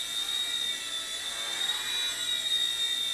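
A small Hisky HFP100 V2 RC helicopter whines steadily up close, its high rotor and motor tone rising and dipping slightly as the throttle is varied, with no voices.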